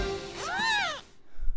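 A single rising-and-falling high-pitched meow from a newborn kitten, close and clear, followed by soft rustling.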